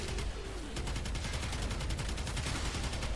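Rapid bursts of gunfire from Twin Kohmak guns in a video game crack out in a dense, rhythmic stream, loud and close, with the shots landing in quick regular pulses.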